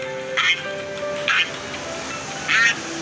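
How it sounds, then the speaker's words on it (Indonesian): Three short duck quacks ring out at uneven intervals over a steady tonal background hum. "Lihat teman-teman, ada bebek rupanya."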